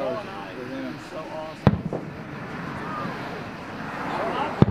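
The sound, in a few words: fireworks booming at Rock Island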